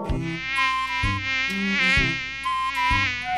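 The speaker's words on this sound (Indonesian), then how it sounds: "Ini nyamuknya banyak banget loh." High, whining mosquito buzz from the Sakura School Simulator game, wavering steadily and continuously at close range with no voices over it.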